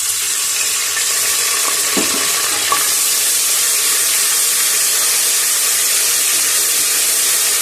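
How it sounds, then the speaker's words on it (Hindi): Half a cup of water goes into a pan of onions fried light brown for a bottle gourd (ghiya kaddu) curry, giving a loud, steady sizzle and hiss that fills the whole stretch with no talking. "अब मैं थोड़ा सा पानी डालने लगी हूँ"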